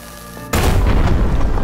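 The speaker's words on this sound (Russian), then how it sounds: "Установить взрывное зелье. Ой-ой-ой, убегаем." An explosive potion blasts open a crevice in a cave in the video game Mask of Mists: a sudden loud boom after half a second of quiet, followed by a sustained rumbling roar.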